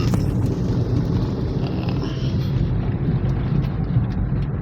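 A second-generation Toyota Vios engine, previously failing to start, running after being started: a steady, close, rough low rumble that continues without a break throughout.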